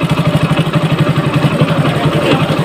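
A motorcycle engine idles close by with a steady, rhythmic chugging pulse while its idle screw is being adjusted, loud and even with no voices.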